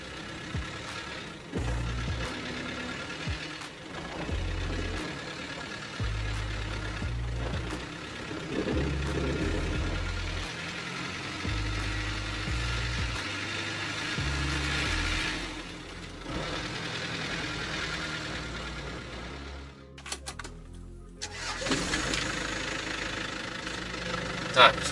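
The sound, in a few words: Chevrolet Trooper engine driving up a slight incline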